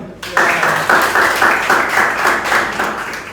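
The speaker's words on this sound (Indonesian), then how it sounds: "Terima kasih, silakan duduk, tepuk tangan dong." A classroom of students claps for a classmate, a steady rhythmic patter of many hands that starts abruptly and keeps an even beat throughout, fairly loud and close with no one talking over it.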